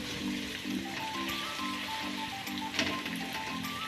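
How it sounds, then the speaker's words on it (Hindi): A small chopped onion frying in half a cup of ghee in a kadai, a soft continuous sizzle and crackle at close range with faint background tones. "प्याज अब हम लाइट ब्राउन होने तक फ्राई करेंगे।"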